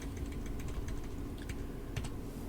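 Quick, close clicking of keys on a computer keyboard, typed in a brisk, uneven burst over a low background hum.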